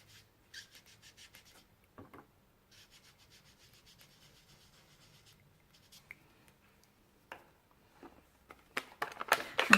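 A foam finger dauber dabbing and rubbing ink onto paper for a Versamark ink background, soft intermittent brushing taps, faint and close, growing into louder scuffing rubs at the end.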